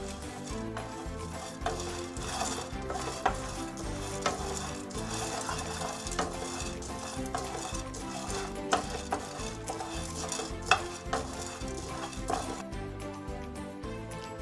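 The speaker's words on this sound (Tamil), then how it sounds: "இது வறுத்த கோப்பிக்கொட்டை. அதால் நான் சும்மா கொஞ்சம் சூடாக்க போகிறேன்." Roasted coffee beans are stirred in a dry pan, rattling and scraping in a steady rhythm with soft clicks of beans tumbling against the metal.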